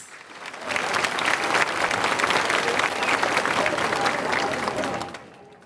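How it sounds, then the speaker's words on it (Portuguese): Warm applause at a Mass honoring Padre Cícero in Juazeiro do Norte for Dom Orani Tempesta, a congregation clapping densely and steadily for several seconds, swelling in quickly and fading at the end, a little distant in a reverberant space. "Ao Dom Arani, uma calorosa salva de palmas!"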